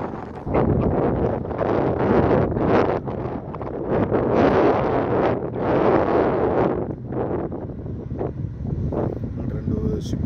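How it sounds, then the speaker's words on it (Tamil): Strong wind at Marina Beach, Chennai, roaring and buffeting the microphone in heavy gusts, loud and continuous throughout with brief dips between blasts. "நல்லா காற்று செம்மையாக அடிக்குது."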